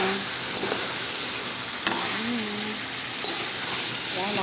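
Garlic and oyster sauce frying for spicy pork, a steady close sizzle with faint stirring clatter and a few soft utensil knocks, alone without talk.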